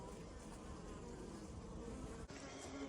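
Bees in an open hive fighting and chasing a small hive beetle, a constant dense buzzing swarm, faint but close and unbroken, with no talk.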